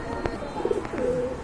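Pigeons coo at a market where pigeons are bought and sold, giving brief soft calls over a low murmur of background voices.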